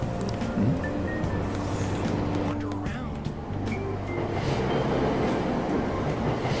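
Train ambience from the video game Persona 5 Royal: a steady rumbling carriage drone with faint metallic squeals and station noise, continuous at moderate level with some background voice-like murmur.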